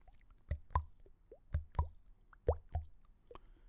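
A voice imitates water drops in a forest with a series of hollow, resonant plops, spaced irregularly, close and fairly clear.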